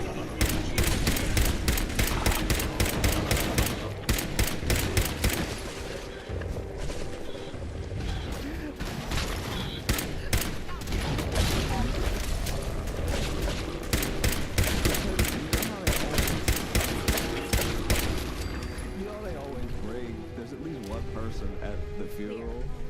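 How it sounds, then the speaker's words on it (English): Gunfire and grenade blasts from the video game Fallout 4, a dense stretch of rapid shots and bursts that runs almost continuously, loud and close, with people talking over the combat throughout. "Are they throwing grenades?"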